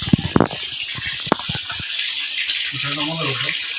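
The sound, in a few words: water filling a small pool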